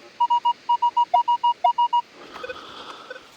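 Metal detector signal while digging for coins at an old farmstead in Ukraine: a run of about eleven short, regular electronic beeps, loud and clear, then quieter rustling and handling noise afterward.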